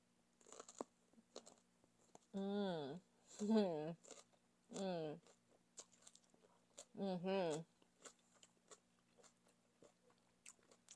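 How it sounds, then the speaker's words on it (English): Someone eats steamed catfish spring rolls with daikon and carrots dipped in fish sauce, with soft bites and chewing between bursts of voiced murmuring and humming sounds of enjoyment close to the microphone. "We got the sweet and sour crunchiness from the daikon and carrots"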